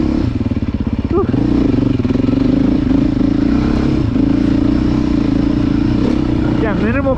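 A 2023 Beta dirt bike engine runs at a steady loud rumble, then revs and pulls hard out of a hole on a trail with minimal clutch. Close up and dominant, with brief clatter and a rising pitch near the end.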